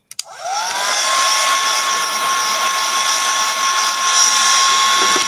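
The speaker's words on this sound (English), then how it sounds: "That needs a bit of a blast dry." A hair dryer blasts a craft shadow box piece, switching on with a click and rising into a loud, steady whooshing whine that runs continuously nearby.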